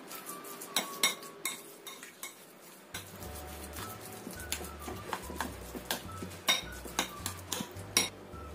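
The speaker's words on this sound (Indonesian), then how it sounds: "Ini kita aduk sampai tercampur rata semuanya." A spoon clinks and scrapes against a bowl in quick, irregular strokes while stirring, close by, with soft background hum.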